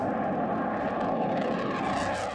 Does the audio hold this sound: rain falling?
no